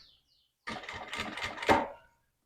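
A sewing machine stitching through a sheet of plastic in a short close burst of rapid rhythmic clatter lasting about a second and a half, between stretches of silence.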